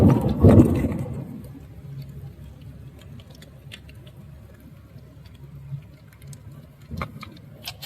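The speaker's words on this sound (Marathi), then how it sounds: "पाऊस जोरदार लागतो आहे" Heavy rain drums on the roof of a car driving through Mumbai toward Dadar as a soft, steady patter inside the cabin, with a louder thump at the start and another knock near the end.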